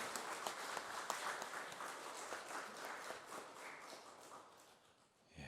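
A church congregation claps for its youth group at an autumn special dawn prayer service, giving steady, fairly soft applause that continues throughout and tapers slightly near the end.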